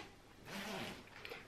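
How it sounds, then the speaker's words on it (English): A zipper on a travel blanket compression pouch is pulled closed, the white zipper running over the black one, giving a fairly quiet, steady rasp lasting about half a second, then a few faint ticks. "The white zipper goes over the black one to compress it."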